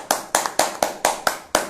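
Seven sharp, evenly spaced hand claps in a steady rhythm, close and distinct, for Aryan Dhaule at an online public speaking competition result announcement.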